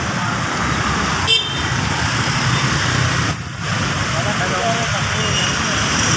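Heavy road traffic on Ortigas Avenue in Pasig City rumbles steadily nearby, with a couple of brief car horn toots cutting through the engine noise.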